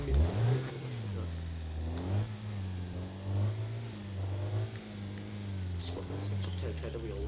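A Volvo S40 T8 engine revs in the BeamNG.drive driving game, rising and falling through several swelling pitch sweeps as the car accelerates, with someone talking over it.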